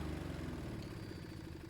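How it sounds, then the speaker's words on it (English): A repaired petrol lawn mower engine idling steadily after a spring adjustment, a low, even, mid-pitched putter with a light mechanical clatter, close by and alone with no talk. "so now it's running how it should be, and it's not over revving once we've fiddled with those springs a bit"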